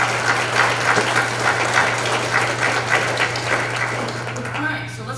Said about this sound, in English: So I want to give them another round of applause.